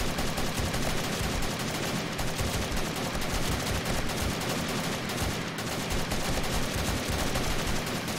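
Dense gunfire from the video game 7 Days to Die rattles without pause, loud and continuous, forming a steady wall of rapid shots.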